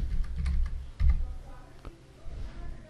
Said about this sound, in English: Now here you need to type or choose one word, type browser.